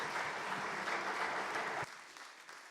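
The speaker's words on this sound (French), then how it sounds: "je vous propose de les applaudir" Audience applause fills a conference hall on territories and the energy transition: a dense, steady wash of clapping that drops off abruptly near the end, leaving a thinner scattering of claps.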